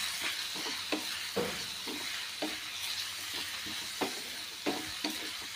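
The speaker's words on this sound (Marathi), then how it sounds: "आता छानपैकी परतून घेऊया" Red chili powder and turmeric sizzle and fry steadily in a hot pan, with a spoon stirring and scraping the bottom in irregular knocks.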